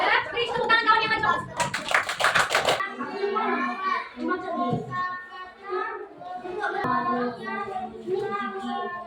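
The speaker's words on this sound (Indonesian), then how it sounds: "Please, tepuk tangan kawan yang maju." Children in a multigrade classroom break into a short burst of brisk clapping for a classmate who has come forward, with young voices chattering before and after.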